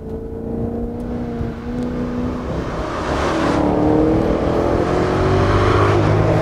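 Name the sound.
Maserati GranTurismo Sport 2017 exhaust sound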